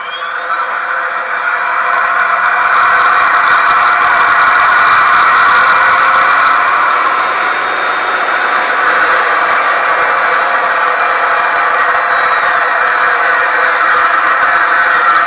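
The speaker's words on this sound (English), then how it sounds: "I want to go ahead and test the sound system and let y'all hear it" ESS sound system in an RC Tornado jet with a JP Hobby 70mm EDF playing a simulated jet engine, a loud steady whine that spools up over two seconds with a rising high tone mid-run.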